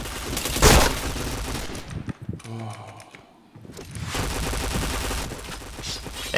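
Rapid bursts of gunfire from the shooter video game Point Blank crackle loudly, break off for a quieter pause with a few tonal game sounds, then resume as dense, sustained shooting.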